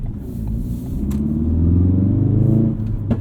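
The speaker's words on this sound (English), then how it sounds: "Love the character of the engine." A modified Ford Focus RS rumbles along a road at night, its engine note rising and falling as the throttle is worked, a deep close growl heard from inside with no talking.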